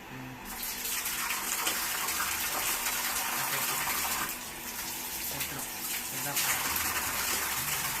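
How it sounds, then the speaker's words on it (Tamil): Water gushes steadily from the pipe of a newly installed 1 HP motor pump, a loud continuous rushing splash heard up close, with voices speaking briefly in the background. "தண்ணி வருது."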